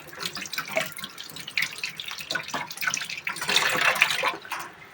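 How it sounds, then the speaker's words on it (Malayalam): Half a potato is rinsed under a running kitchen tap, with water splashing and trickling unevenly as it is turned in the stream, close and fairly loud with no talking. "ഞാൻ ഒരു പകുതി ഉരുളക്കിഴങ്ങ് എടുത്തിട്ടുണ്ട്. അതിനെ ഞാനൊന്ന് കഴുകി എടുക്കട്ടെ കേട്ടോ."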